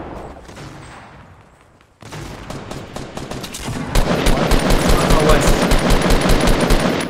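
Rapid automatic gunfire in the Fortnite battle royale game rattles loud and close in dense bursts after a quieter opening, with faint voices now and then.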